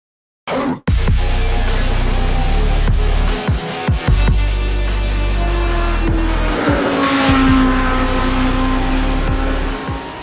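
A Formula Alpha 2023 race car in a sim racing game roars close and loud, its engine pitch climbing and dropping through gear changes while tires squeal and skid under hard cornering.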